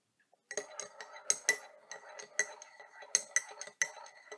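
A spoon clinks against the inside of a cup while stirring honey into Twinings Irish Breakfast tea, a quick series of bright, close taps and chimes after a brief quiet start.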